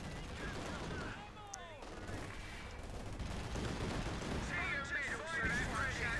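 Machine gun fire in the Company of Heroes 2 video game, a steady rattling barrage heard at moderate distance, mixed with battle noise and game voices throughout.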